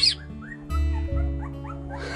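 A pack of dogs in Vietnam whimpers and yips in short, high, wavering cries over a steady low hum, fairly close and with no voices.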